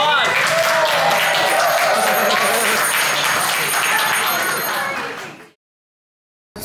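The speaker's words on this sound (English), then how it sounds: "Let's give them a big round of applause." Crowd applause at a Disney World show, a loud wash of clapping mixed with cheers and voices that fades out abruptly.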